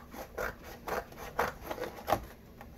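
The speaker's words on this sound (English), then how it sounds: "I'm going to cut these little" Scissors snip close by through the paper flaps of a handmade junk journal, a quiet run of about five or six crisp cuts spaced roughly half a second apart.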